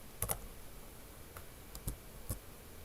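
Python code is typed on a computer keyboard in a few faint, sparse taps and clicks at close range, with long quiet gaps between keystrokes.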